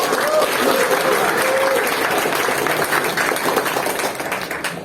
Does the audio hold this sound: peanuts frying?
no